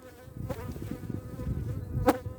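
Honey bees buzz close by at a traditional log hive in a soft, fluctuating drone, with individual insects zipping past briefly.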